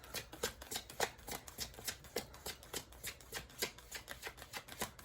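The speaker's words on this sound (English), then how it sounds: "Let's get one more shuffle in here." Tarot cards being shuffled in quick, repeated riffling bursts, close and steady for several seconds, with no talking.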